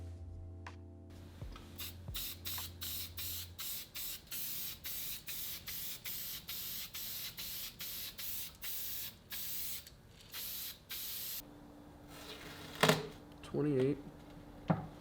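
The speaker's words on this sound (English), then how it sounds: "and then we're gonna spray it very deliciously." Rapid repeated short hissing bursts of a spray can, evenly spaced, followed by a steadier spray and a few clicks and rattles near the end.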